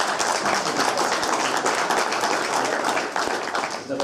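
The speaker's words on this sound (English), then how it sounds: "Give him a big round of applause" An audience at a boxing promotion homecoming press conference applauds the promoter with a steady, dense wash of clapping that holds evenly for several seconds.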